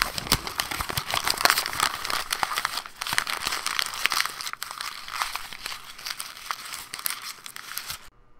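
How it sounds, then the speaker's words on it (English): Paper crumpled by hand for a Foley sound, recorded close on a Blue Snowball microphone: dense, continuous crinkling and crackling for about eight seconds, then a sudden cut to silence. "start this over and crumple some paper"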